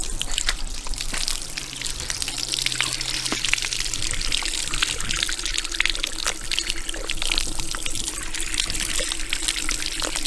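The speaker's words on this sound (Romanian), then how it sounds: "Asta e izvorul?" A natural spring in the Romanian countryside pours a continuous, close trickle and splash of water, steady and bright throughout, with no talk over it.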